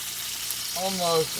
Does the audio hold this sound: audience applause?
no